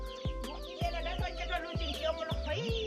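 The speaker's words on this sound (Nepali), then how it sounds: "कुखुराहरू देख्न सक्नुहुन्छ" Several clucking fowl sounds, close and busy, with chirpy bird calls layered over a steady background; no talking.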